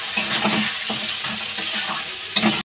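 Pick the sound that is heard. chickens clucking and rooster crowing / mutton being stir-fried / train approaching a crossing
mutton being stir-fried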